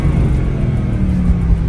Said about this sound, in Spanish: Es que no puedo dejar de acelerarlo.